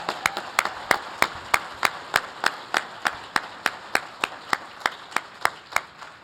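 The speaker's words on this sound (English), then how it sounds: "That was scripted, so I'm glad we all clapped" Applause at a 40th anniversary gala, heard as a single steady, evenly spaced clap repeating about three times a second, crisp and fairly close.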